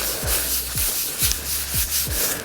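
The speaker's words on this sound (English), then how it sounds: "I'm gonna do that burnishing again. I'm gonna rub it carefully," Steady back-and-forth rubbing of material across a print being burnished by hand, five evenly spaced strokes, each a soft, close, dry scrape.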